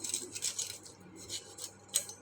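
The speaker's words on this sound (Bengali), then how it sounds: "এখন পিস পিস করে কেটে নেব।" Knife cutting a washed fish into pieces on a board, with a few soft scraping and tapping cuts spread over a couple of seconds, faint and close, with no talk.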